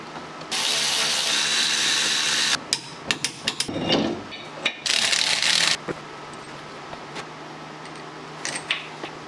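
A torque wrench tightens the bolts on a CEiKA brake caliper, with ratcheting clicks and metallic knocks falling between two long, loud hissing bursts, then a few sparse taps; no one speaks.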